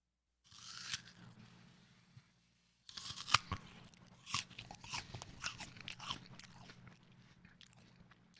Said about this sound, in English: It is very crunchy, very crispy.